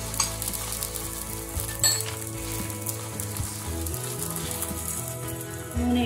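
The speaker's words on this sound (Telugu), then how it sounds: "కాగింది సో మనం ఈ రొట్టెని దీని మీద వేసేసుకోవాలి" Koyya rotti cooking on a hot pan over a low flame, giving a steady close sizzle with a few light metallic clinks, no talking.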